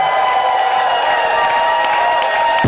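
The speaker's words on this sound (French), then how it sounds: "Tu peux pousser des cris de victoire" A church congregation cheers and shouts in a sustained, loud wash of crowd noise with scattered clapping, mid-sermon after a call to shout for victory.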